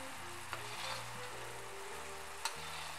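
Sugar syrup with ghee bubbles in a pan while Mysore pak is cooked: a soft, steady sizzle with a low hum beneath and two brief clicks, with no voices.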